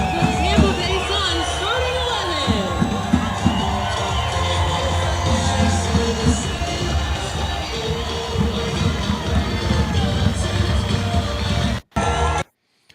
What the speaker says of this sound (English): you could hear the atmosphere from the crowd as the team ended up walking in